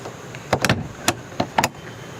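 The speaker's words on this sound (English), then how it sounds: "You'll hear the mechanism make some noise, you'll hear the beep." A close, quick series of mechanical clicks and whirs comes in irregular bursts from a keyless entry lock on an RV camper door. No clear tonal beep stands out.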